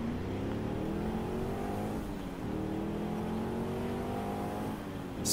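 A car in Saints Row IV drives along with a steady engine drone that rises through gear changes, revving up twice, close and moderately loud with no talk over it.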